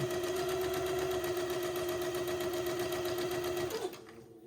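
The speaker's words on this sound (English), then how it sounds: "I'll do a couple of stitches forward and back to tack it down" A sewing machine stitches forward and back to tack down a French seam, a steady close mechanical whir that runs evenly and then stops abruptly near the end.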